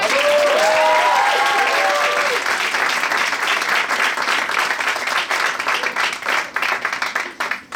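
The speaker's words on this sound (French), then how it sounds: "On peut les applaudir les autres." Loud, dense applause from a crowd that holds steady and then thins out into scattered claps, with a bright tonal jingle audible at the start.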